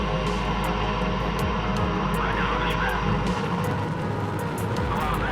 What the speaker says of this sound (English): Turbo pumps now coming up to flight speed.